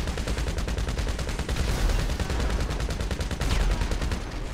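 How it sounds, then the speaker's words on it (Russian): A machine gun in GTA Online fires almost without pause, a loud, fast, sustained rattle of shots running throughout, with no talking. "Видел, какой пулемет прикольный"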